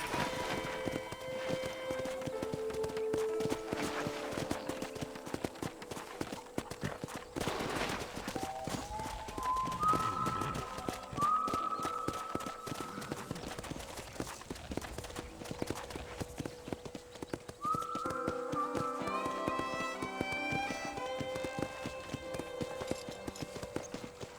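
Horse hooves clip-clop steadily throughout in the video game Red Dead Redemption, a continuous walking rhythm with soft melodic tones drifting over it.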